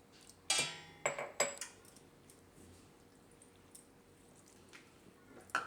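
A spoon stirs cornflour into milk in a bowl while making beet halwa, clinking against the side in a few bright taps near the start, then softer swirling and a final clink, close up.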